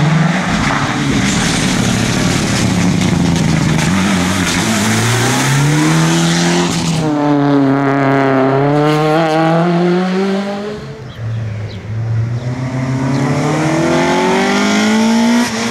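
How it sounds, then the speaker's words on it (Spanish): Rally car at a 2019 rally stage roars past at speed, engine note sweeping and shifting through gears, loud and close throughout with a brief dip before the revs climb again. "¡Coche, coche, coche!"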